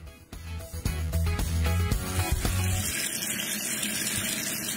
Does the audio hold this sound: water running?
yes